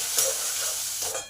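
Curry leaves frying in a pan with lentils for a semolina bun dosa, a steady moderate hiss of oil with a couple of light stirring scrapes, close and without voices.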